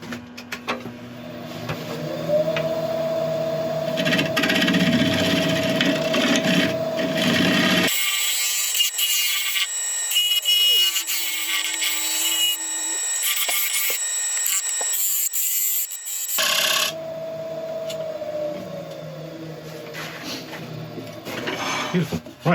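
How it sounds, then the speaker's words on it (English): A scraper finishing the surface of a wooden piece turning on a lathe gives a steady rasping scrape over the machine's hum, broken midway by a shift to a thinner, brighter hiss before the fuller scraping resumes. "I'm going to get a scraper in there, finish off the surface"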